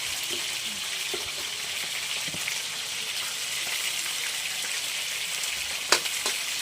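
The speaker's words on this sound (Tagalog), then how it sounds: "So yan guys at bali magigisa na ako." Aromatics such as ginger, onion and garlic sautéing in an oiled pan for papaya escabeche, a steady close sizzle throughout with a brief sharp clatter near the end, no talk.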